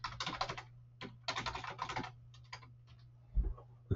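Rapid bursts of close computer keyboard typing while writing Visual Basic code, dense clattering runs separated by short pauses, then a few scattered keystrokes over a low steady hum.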